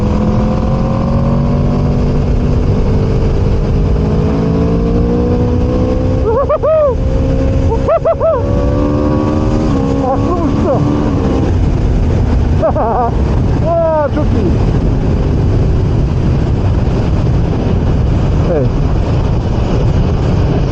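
Aprilia RSV4 Factory motorcycle rolling at low speed on a road, a steady close engine drone under heavy wind rush with a couple of brief revs, while a rider talks over it.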